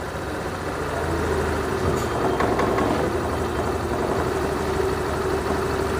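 An engine runs at idle just after being refitted while its RPM is turned down, a steady close low hum and rattle with a few brief metallic clicks in the middle, no voices.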